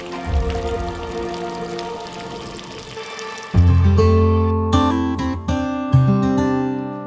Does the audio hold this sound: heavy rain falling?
yes